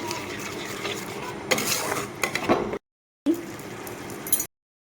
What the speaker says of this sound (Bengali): তো সবগুলো মশলা একসাথে আমি কষিয়ে নেব